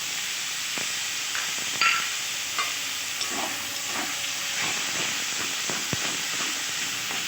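Onion paste with cumin frying for a banana flower curry, a steady hissing sizzle close up, with intermittent clinks and scrapes of stirring against the pan.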